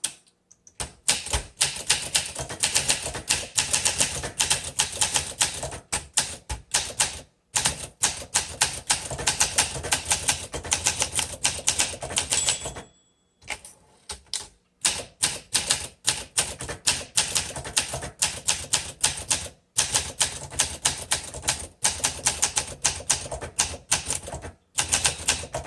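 A 1962 Olympia SM5 manual typewriter clatters under fast typing, with dense crisp keystrokes in long runs broken by brief pauses and a carriage-return bell, close and clear with no talking.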